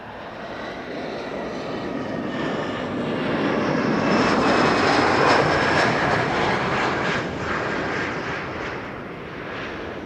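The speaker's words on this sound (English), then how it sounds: "that's a 767, the first 767 of the show" A United Airlines Boeing 767 arriving from Washington at Amsterdam Schiphol roars loudly overhead, its jet noise swelling to a peak midway and then easing off as it passes.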